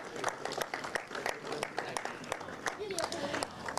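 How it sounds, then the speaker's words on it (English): An audience applauds a Mini 60 under-10 karting finisher at PF International, scattered claps and crowd noise sitting under louder overlapping commentary speech. "Huge round of applause for Oliver Woodhall."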